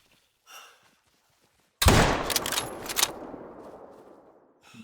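A single loud rifle shot in theHunter: Call of the Wild, during an ibex hunt at Cuatro Colinas, cracks suddenly after near silence and rolls away in a long, echoing decay across open terrain.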